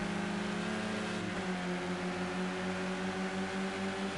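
A touring car in a sim racing game at Oulton Park holds a steady engine drone, then its revs drop audibly as the driver lifts through Knickerbrook and the tone settles lower, with no talk.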